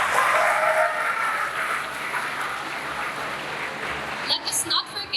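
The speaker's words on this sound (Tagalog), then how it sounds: "Isang malakas na palakpak para sa ating paaralan." Applause from an audience at a Grade 10 farewell ceremony at a science and technology high school, fairly loud clapping that tapers off, with some voices audible over it toward the end.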